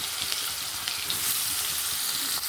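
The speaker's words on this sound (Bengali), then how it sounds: "পেঁয়াজটাকে ভালো করে ভেজে নেবো" Sliced onions fry in oil with butter in a pan, giving a close, continuous, even sizzle with faint crackles throughout.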